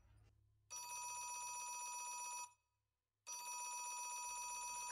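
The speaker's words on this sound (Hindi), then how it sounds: "फोन की आवाज आ रही है।" A telephone bell rings loudly in two long bursts separated by a short pause, clear and close with no talking.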